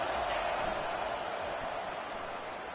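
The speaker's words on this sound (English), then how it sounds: "This crowd bringing the energy and noise early." A stadium crowd in the College Football 25 video game gives off a broad, steady roar of cheering and noise at close range, filling the scene evenly with no talk over it.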